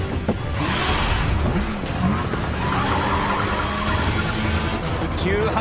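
An anime race car brakes hard downhill into a sharp right turn, giving a loud sustained engine and tyre-scrub roar with brief squeals over a constant rumble.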